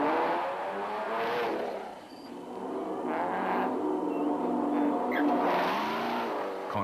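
Rally cars racing on a road during a national championship leg alongside a cross-country race, engines revving hard with rising and falling pitch as they accelerate and pass close by, loud and continuous.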